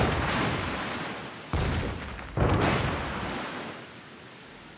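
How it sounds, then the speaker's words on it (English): Heavy naval artillery booms roll out in the World of Warships video game, with three big blasts at roughly one-second intervals, each followed by a long, broad, fading rumble. "All stations, concentrate fire on the target."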